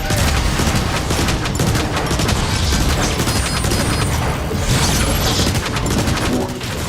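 Grenades and heavy weapons fired in the video game War for Cybertron, a dense, loud barrage of rapid blasts, booms and gunfire running without pause throughout.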